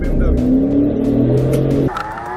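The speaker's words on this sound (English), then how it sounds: "the driver suddenly accelerated, triggering a high-speed pursuit" Black BMW tearing away at high speed in a police pursuit, engine roaring steadily with tires squealing, loud and close, then the tone abruptly shifts near the end.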